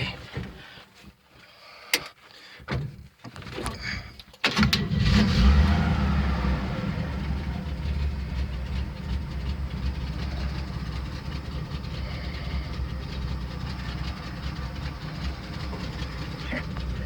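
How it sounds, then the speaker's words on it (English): A 1971 Chevy C10 pickup truck is cranked after a few clicks and clunks, then its engine catches with a loud surge and settles into a steady, rumbling idle that runs on, close by. "Oh yeah, I'll start it."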